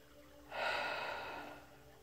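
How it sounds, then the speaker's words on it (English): A single slow, deep breath is drawn in through the nose and mouth during a relaxation exercise. It is soft and close, with a breathy hiss that lasts about a second in otherwise quiet surroundings. "It's just a matter of simply closing your eyes and breathing deeply in"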